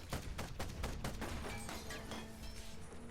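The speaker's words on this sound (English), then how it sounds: "we're going to attack him with a light cannon and see how much damage that does" Light cannon fire from a steampunk war machine in the turn-based game Ironcast 1886: a rapid series of sharp, loud impact blasts in the first second and a half, then a sustained rumbling, crackling tail with a steady low hum underneath.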